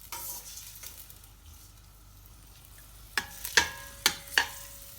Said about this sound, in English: you just have to fry the onion for a minute